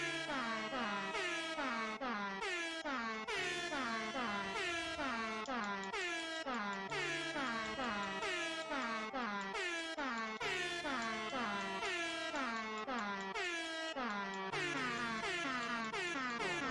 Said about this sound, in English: This is an air horn remix